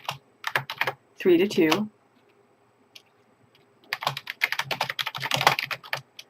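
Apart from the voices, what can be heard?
typing a creator name on a computer keyboard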